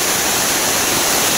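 A jungle waterfall near a village in the Konkan region of Ratnagiri, India, sends heavy water crashing down in a loud, dense, continuous roar close by.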